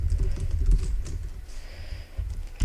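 Rapid keystrokes clatter on a computer keyboard in short irregular bursts, close and fairly quiet, with a brief pause before typing resumes.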